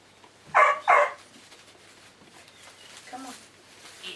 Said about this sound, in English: There we go. It's Faye's doggy, isn't it?